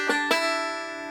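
Banjo pinch of two plucked strings, struck twice in quick succession and then left ringing as the bright tones fade, close and solo.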